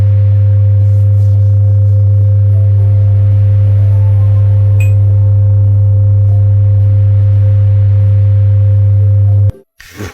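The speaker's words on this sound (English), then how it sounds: "So the UAP dog whistle just got leaked online." A UAP dog whistle tone from Skywatchers: a loud, steady low hum with faint higher overtones, droning unbroken for about nine seconds before cutting off abruptly.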